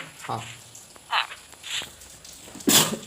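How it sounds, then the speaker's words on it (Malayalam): A single sneeze bursts out near the end, loud and close, after some scattered quieter vocal noises during Minecraft gameplay. "എനിക്ക് തുമ്മിയതാണ്"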